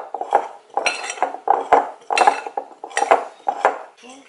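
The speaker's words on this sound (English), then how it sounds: "Fork and just mix it up." A fork briskly whisks flour, baking soda and kosher salt in a bowl for cookie dough, making rapid rhythmic scraping and clinking in repeated bursts, close and fairly loud, with no talking.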